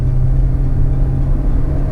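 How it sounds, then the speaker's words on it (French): A Citroën car with a naturally aspirated engine pulls away under hard acceleration, a steady loud low engine drone with a fairly even, sustained rumble throughout. "On va la lancer un peu pour voir"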